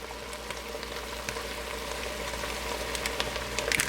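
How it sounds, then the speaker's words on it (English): Chili seasoning mix is stirred into browned meat in a pot, giving a soft, continuous sizzle with light scraping and crackling, fairly close and steady. "give that a good stir"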